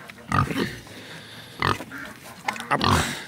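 Escaped piglets grunting and squealing nearby in short, irregular bursts, with quieter gaps between them and brief rustling underneath.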